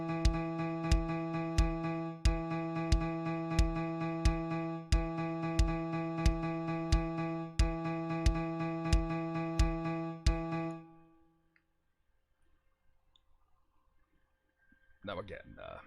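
Dotted sixteenth-note rhythm tapped out on a bright pitched tone, a steady stream of sharp repeated notes for about ten seconds that then rings out and fades to silence.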